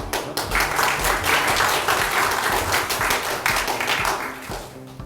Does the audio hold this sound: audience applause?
yes